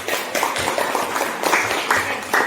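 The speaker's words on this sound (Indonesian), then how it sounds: "Tepuk tangan buat Anas." A classroom of students claps briefly for a classmate, a short burst of fairly close, uneven hand claps with no speech over them.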